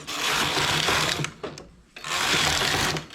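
A domestic knitting machine running two rows, its carriage producing a loud whirring mechanical rasp in two long passes separated by a brief quiet pause, with no talking.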